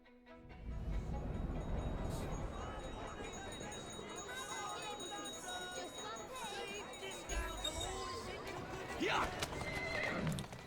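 A horse whinnies and snorts over steady clip-clopping hooves in Assassin's Creed Syndicate, during a race against a train, with game background ambience and a voice talking over it, whinnies peaking near the end.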